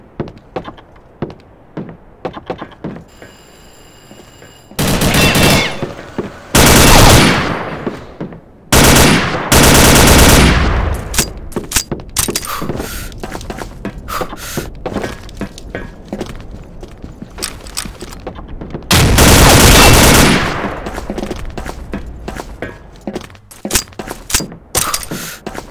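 Loud gunfire in a video game, scattered single shots and short bursts broken up by several longer, heavy volleys of automatic fire, with clicks and thuds in the gaps.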